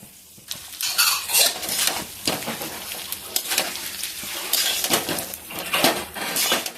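Rice being stirred in a pot for pulao, with a spoon repeatedly scraping and clinking against the metal in quick irregular strokes, close and fairly loud.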